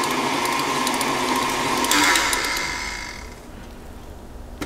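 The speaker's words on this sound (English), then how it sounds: "I'm going to beat those ingredients together" Electric mixer beating butter and brown sugar for cookie dough, a loud steady whirring drone with rattling beaters that fades down and stops near the end.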